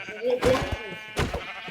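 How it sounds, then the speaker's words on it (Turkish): Sheep in the Minecraft video game give two short bleats about a second apart, close and clear, while a person talks over them. "Oo daha fazla koyun var lan."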